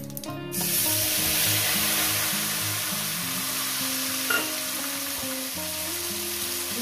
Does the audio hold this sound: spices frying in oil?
yes